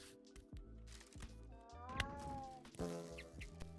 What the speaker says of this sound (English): A lot of weird cat noises.